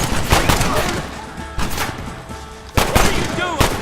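Gunfire in the video game Red Dead Redemption during a gate assault: dense bursts of shots in several loud clusters, with in-game voices talking over the firing.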